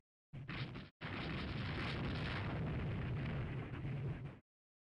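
A warship hit by a torpedo in the naval strategy game Rule the Waves 3 explodes in a loud, sustained roaring blast, broken by a brief gap after its opening burst and then rumbling on for several seconds.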